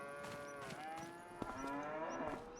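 Cattle lowing in a pasture in the Farming Simulator 25 video game, with several overlapping drawn-out moos from a herd, fairly quiet and distant, with faint chirps in the background.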